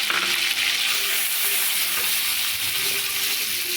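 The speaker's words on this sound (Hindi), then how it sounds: "तेल गरम हो गलानी, एबे केतरे मु टमाटर दे देली" Tomatoes frying in hot mustard oil in a kadai give off a loud, steady sizzle that runs unbroken and close throughout, with faint stirring scrapes underneath.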